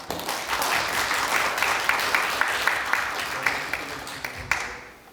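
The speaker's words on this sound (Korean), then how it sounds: "김석준 박사님께 다시 한번 큰 박수 부탁드립니다" Applause from a forum audience thanking a presenter at a panel on the digital new deal, moderately loud clapping with distinct rhythmic accents, fading out toward the end.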